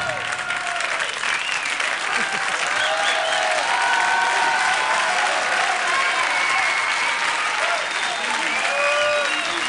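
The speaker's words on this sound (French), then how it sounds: "C'est vraiment Mathilde qu'il faut applaudir" Sustained audience applause at an award ceremony fills the whole stretch, dense and even, with voices and cheers faintly mixed into the crowd.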